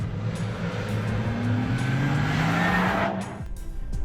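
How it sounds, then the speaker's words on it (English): A Porsche Taycan electric sports car in Sport Plus mode, its motors thrumming and whining steadily, the pitch rising smoothly as it accelerates, close and loud, then easing off. "Switch to Sport Plus mode and the electric thrum of the motors is amplified."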